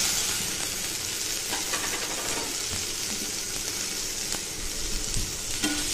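Black cumin, cumin paste and garlic paste fry in mustard oil for a pomfret fish curry, producing a steady dense sizzle with intermittent spoon scrapes and clicks close by, no speech.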